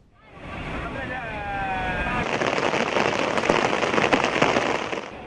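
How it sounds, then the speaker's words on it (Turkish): Heavy rain and rushing flood water beside a river in Hubei, China, build into a loud, churning roar, with a faint whistling tone early on before the turbulent noise takes over. "Çin'de şiddetli yağmur hayatı olumsuz etkiliyor."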